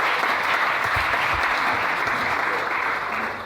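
A church congregation applauds during a Sunday service, a dense, steady wash of clapping that keeps up for several seconds at full strength before easing off slightly at the end.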